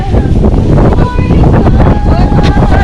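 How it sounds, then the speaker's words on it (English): Strong wind buffets the microphone on a beach during a windy kulis cup event, a loud, constant roar with gusts throughout and boat and water sounds mixed in. "Oh my God, the wind."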